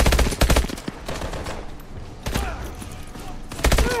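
Call of Duty Advanced Warfare gunfire crackles in loud, rapid bursts, a heavy volley at the start, another near the middle and a final burst at the end, with steady battle noise between.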